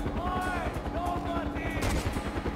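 Video game gunfire crackles in rapid bursts, automatic shots rattling alongside chirping in-game effects, fairly loud and continuous.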